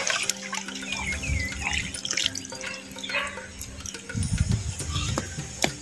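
Tamarind dissolved in rice-washing water is poured into a clay pot for Chettinad vendakkai mandi, giving a close, steady liquid splash and trickle with drips, louder and fuller toward the end.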